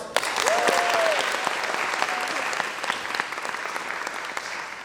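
Audience applause for a live band set, a full crowd clapping steadily and fairly loud, slowly thinning over several seconds, with a brief whistle near the start.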